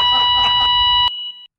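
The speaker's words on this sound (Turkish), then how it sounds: "ya, bu nasıl bir bip sesi be?" A sustained electronic beep rings out in clear steady tones, first under a muffled voice and background noise, then alone for a moment before cutting off abruptly.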